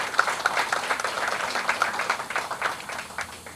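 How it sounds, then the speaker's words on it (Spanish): Audience applause at a university round-table on China–Latin America relations, as a diploma is presented: a crowd's brisk clapping rises to a dense, even patter lasting several seconds, then thins slightly toward the end. "Un aplauso, por favor."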